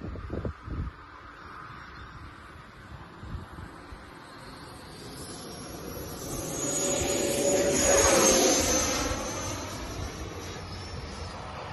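Airplane, likely a model aircraft at a carrier-style field fly-in, taking off as its engine swells to a whining roar and passes close before fading slightly, after a few low thumps at the start.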